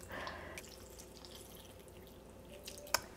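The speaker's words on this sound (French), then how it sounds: "J'essaie juste de nettoyer mes bordures avec mon eau de coco avant." Coconut water is poured along the edges of a slow cooker holding Vietnamese beef stew (bo kho). It makes a faint, soft trickle and splash that ends with one small drip.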